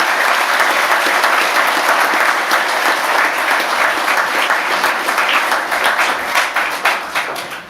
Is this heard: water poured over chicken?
no